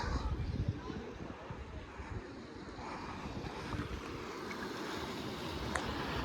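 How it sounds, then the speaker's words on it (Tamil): Sea waves break against the walls of Bekal Fort in Kerala, a steady close wash of surf mixed with heavy wind buffeting on the microphone throughout. "அந்த அலை வந்து இதில் அடிக்கிறது சவுண்டு சூப்பராக இருக்கும்"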